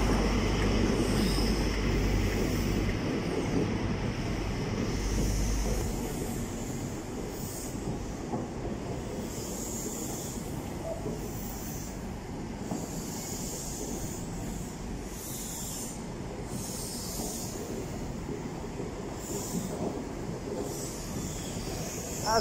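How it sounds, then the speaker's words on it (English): A British Rail HST high speed diesel train with power cars 43295 and 43385 rumbles through Nottingham station, a steady loud low engine drone and wheel noise that eases slightly after the first few seconds and continues throughout. "At least this one's actually a HST, right?"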